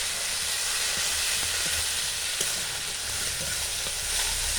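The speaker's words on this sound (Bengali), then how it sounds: "খুব ভালো করে কষিয়ে নেব।" Salt, turmeric, chilli powder and green chilli paste fry in a pan for a Bengali singi fish curry, giving a loud continuous sizzling hiss that stays steady throughout, close by, with no speech.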